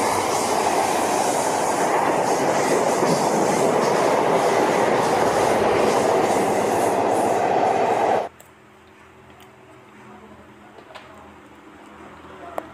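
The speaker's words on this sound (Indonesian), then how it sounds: "ini kereta cepat" Rumbling, rushing noise from a toy high-speed train, loud and steady with a clattering rail-like texture for about eight seconds, then cutting off abruptly to quiet room sound with small clicks.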